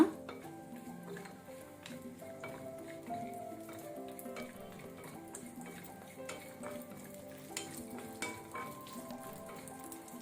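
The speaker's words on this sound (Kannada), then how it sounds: "ಈಗ ನಾವು ಇದನ್ನು ಸ್ವಲ್ಪ ಕಲರ್ ಚೇಂಜ್ ಆಗೋ ತನಕ ಫ್ರೈ ಮಾಡ್ಕೋಣ." Cashews and raisins fry in a pan for sabudana payasa, making a faint, quiet sizzle with light utensil clicks and stirring taps over a low musical background.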